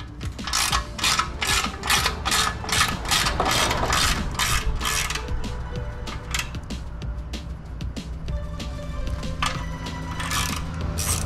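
A ratchet loosens the skid plate bolts on a Husqvarna Svartpilen motorcycle that is still warm from riding. Quick bursts of rapid clicking repeat close by, stop briefly, then start again, with no talking.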